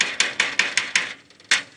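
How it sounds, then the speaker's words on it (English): A NASCAR-style pneumatic impact gun working on a double-axle trailer's axle hardware fires about half a dozen sharp, rapid rattling bursts, close and fairly loud, with a short gap before the last one. "This really gives you an idea how fast those NASCAR guns are."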